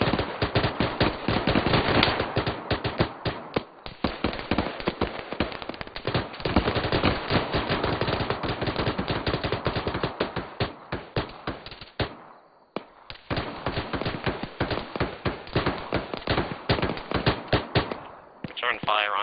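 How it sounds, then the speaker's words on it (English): Loud, sustained automatic gunfire in a military video game, with dense rapid bursts continuing almost without a break apart from a short pause midway. "Return fire on the contacts to the southeast."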